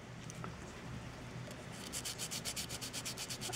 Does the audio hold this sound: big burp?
no